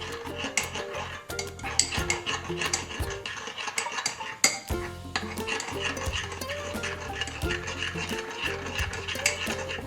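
A spoon stirs paneer tikka masala and Punjabi garam masala into yogurt for a matar paneer curry, clinking steadily against the bowl in quick, close scraping and tapping strokes throughout.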